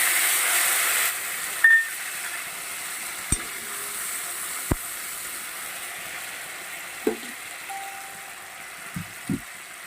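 Ginger and cumin paste frying in hot oil in a home kitchen while a fish curry is cooked, giving a steady soft sizzle and hiss with a few sharp clicks and taps of a utensil against the pan.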